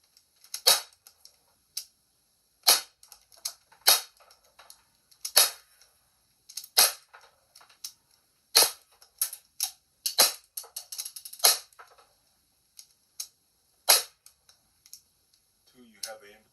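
Air gun shots fired at a can, a string of sharp, close snaps at irregular intervals separated by near silence, with a few faint handling clicks between them.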